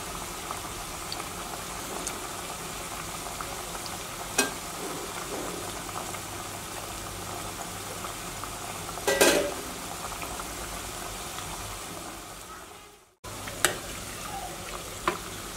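Beetroot vadai deep frying in hot oil on a stove, a steady bubbling sizzle running throughout with occasional brief clinks and pops, no voices.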